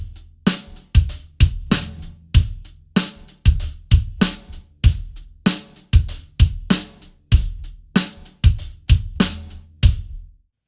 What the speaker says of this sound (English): the groove we're going to start with is a funky rock groove that has backbeats on 2 and 4 on the snare drum